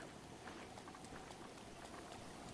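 Rain falls in Breath of the Wild, a faint, even hiss of drops that keeps up steadily the whole time, with nothing else standing out.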